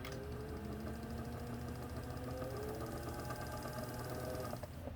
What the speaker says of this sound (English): So just demonstrate the bobbin winder.